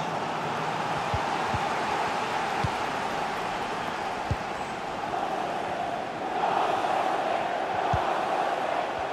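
Stadium crowd noise in a PS5 football game, Manchester City against Arsenal in the Premier League, a continuous broad roar of fans that swells slightly toward the end, with occasional sharp thuds over it.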